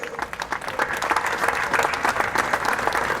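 A ceremony audience applauds an honoree recognized for work in the visual arts, with steady, fairly full clapping that rises slightly and holds throughout.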